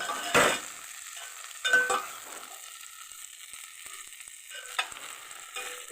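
Ingredients fry in oil in a pan while wood apple chutney is prepared, giving a soft continuous sizzle broken by a few sharp scraping stirs.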